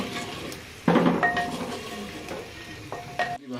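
Green chilies and salt are stirred in a hot pan with a few spices, a loud opening scrape followed by softer sizzling and irregular utensil clinks against metal, close by with no voices.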